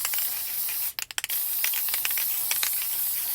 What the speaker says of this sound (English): that's all it is just clear spray paint